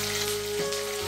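Curry leaves and green chili fry in hot oil for an Indian onion-tomato curry, producing a brief, steady, close sizzle with a faint sharp crackle partway through.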